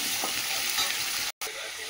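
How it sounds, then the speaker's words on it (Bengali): Mixed vegetables frying in oil with onion and green chili, a dense continuous sizzle and soft stirring scrapes close up, briefly cut to silence near the end, no speech. "এই যে সবজিটা দিয়ে দিলাম এর মধ্যে, দিয়ে আর একটু ভাজা ভাজা হোক"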